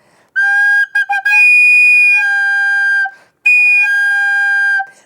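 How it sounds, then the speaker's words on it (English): A wind instrument is overblown into a shrill, whistle-like squeal and then eased back to its normal pitch, giving two sustained harmonic notes split by brief breaks and a short pause, loud and close with no other sound. "I'm going to try to make the squeal again and then bring it back to a normal pitch."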